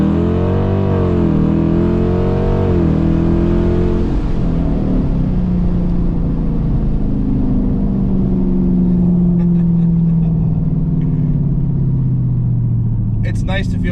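A drag race car with a new 3.90 posi rear end launches from 1500 RPM, producing a loud, close engine roar that climbs in pitch and then settles into a long, heavy rumble as it pulls down the track.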